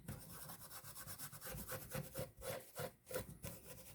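A Briggs and Stratton carburetor is scrubbed with a non-scratch pad and carb cleaner, a close, quiet series of rhythmic rubbing strokes with brief pauses between them.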